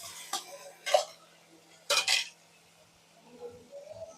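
A spatula scrapes and clinks against a pan as ginger, cumin, onion and garlic pastes are stirred, in a few separate close knocks and scrapes with quiet gaps between them.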